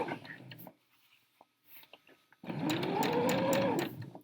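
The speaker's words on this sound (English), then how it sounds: "because we're stitching a curve" A sewing machine runs steadily for a couple of seconds, stitching a curved seam in fabric, after a quieter stretch of faint handling sounds and a short earlier burst of motor whir.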